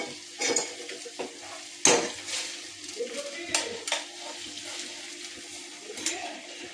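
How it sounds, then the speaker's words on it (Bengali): Hot water goes into a pan of chicken dopiaza with butter, raising bursts of sizzling and bubbling, with several spoon scrapes and clinks against the pan. "তো এই জলটা আমি যোগ করলাম।"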